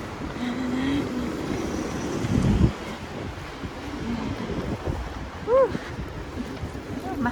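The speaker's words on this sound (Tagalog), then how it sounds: "Ayan ang mahangin dito banda." Wind blows outdoors on a snowy early-morning walk, buffeting the microphone in uneven gusts with low rumbling bursts and a couple of faint, brief tonal chirps.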